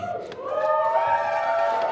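An audience at a conference talk cheering and whooping, a short burst of crowd voices rising briefly and holding, fairly close.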